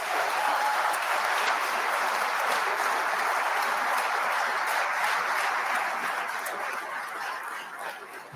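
An audience claps through the 2026 New Jersey budget address, a dense, sustained round of applause that holds steady and then slowly thins toward the end.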